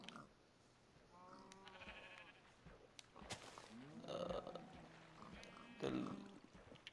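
Sheep bleating in the Minecraft video game, several wavering bleats spaced across a few seconds, some overlapping, over a quiet background.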